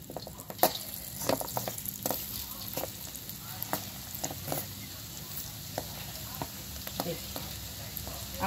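Aloo bhujia frying in hot oil over a high flame, a steady crackling sizzle with sharp pops scattered throughout, close and moderately loud.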